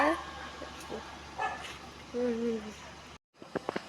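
A dog barks and yips in short bursts near people chatting, with a few sharper barks toward the end.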